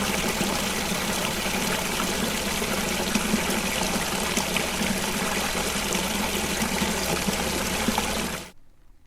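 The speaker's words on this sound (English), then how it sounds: "I'll stop and get a view of that little babbling brook, the mini waterfall I found too." A small babbling brook spills over a mini waterfall in Bear Brook State Park, a steady close rush of water that runs without pause before cutting off abruptly near the end.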